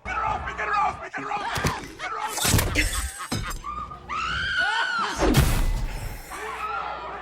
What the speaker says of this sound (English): I love that they're all just screaming